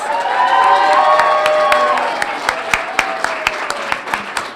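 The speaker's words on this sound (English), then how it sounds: "thanks for that applause" Audience applause with scattered cheering for an award winner at a public health and nursing recognition event, a full crowd roar at first that thins to sparser claps and loose whoops.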